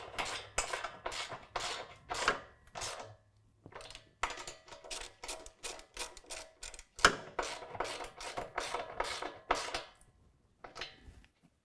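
A 13mm socket on a ratchet drives the center bracket bolt of Havoc HST black running boards on a Toyota Tacoma, giving rapid close clicking bursts in repeated runs with short pauses between.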